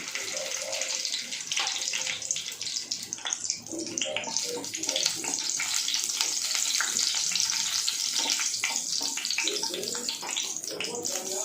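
Dried red chillies dropped into about two tablespoons of hot oil in a pan for sevai upma give a steady, close hiss and crackle that runs without a break, with faint voices in the background.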